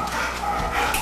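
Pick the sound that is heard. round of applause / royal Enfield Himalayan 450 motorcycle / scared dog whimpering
scared dog whimpering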